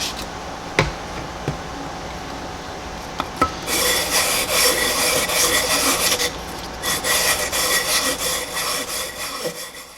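Metal is hand-sanded with 320 grit sandpaper during repairs on a Massey Harris Pony tractor. After a few light taps, close, steady rasping strokes scrub back and forth continuously.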